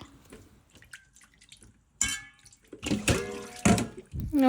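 Dried fish (shutki) being washed by hand in water for a Sylheti shutki shira dish, with quiet dripping at first, then louder splashing and sloshing in bursts over the second half.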